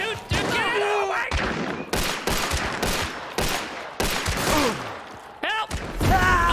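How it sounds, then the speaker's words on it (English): Gunfire in the video game Hunt: Showdown: repeated loud, sharp shots in irregular bursts, one rapid volley after another, close and dominant, with voices talking between the shots. "we're here getting shot at from the north"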